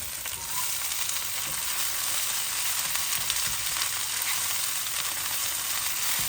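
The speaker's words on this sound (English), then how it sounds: "Now I'm going to add the kale." Fresh kale goes into a hot pan of sizzling mushroom spinach curry with green chili, giving a steady, loud frying hiss that holds evenly throughout with no voices.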